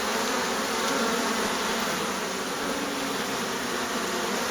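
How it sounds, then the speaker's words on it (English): Dense, steady buzzing of many Russian bees at a hive entrance, loud and very close, with no pauses or other sounds. "It is just a solid wall of bees there"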